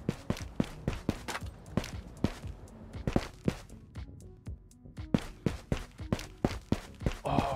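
Repeated footsteps of someone sneaking in the video game Ghosts of Tabor, a steady run of soft thuds at close range, mostly alone with no talk over them.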